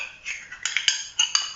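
A metal spoon clinks and scrapes against a bowl while scooping blackcurrant preserve into cheesecake mixture, giving a handful of light, close taps and chimes in quick irregular succession.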